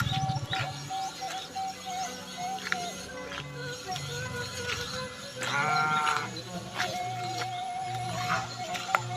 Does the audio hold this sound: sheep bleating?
yes